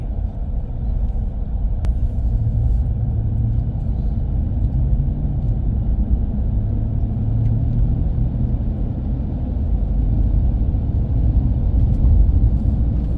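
A car cruises along a flat winter highway on winter tires, giving a steady, continuous low road rumble and engine drone throughout with no talk.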